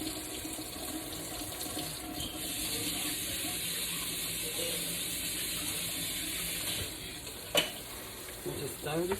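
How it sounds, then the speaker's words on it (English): Macaroni and cheese in a pot, a steady close hiss of cooking with soft stirring scrapes, a sharp clink near the end and a few light knocks of the spoon against the pot. "Just stir this up."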